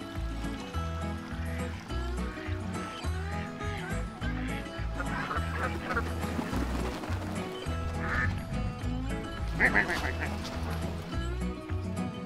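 Geese honk and quack repeatedly alongside chickens near a walking path at Hardcastle Crags, a steady clamor of close birds with a stream running underneath.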